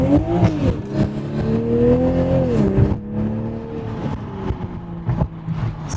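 Modified Toyota Supra exhaust under acceleration: a loud, close engine note climbing in pitch through revs, dropping briefly, then rising again with throaty rasp.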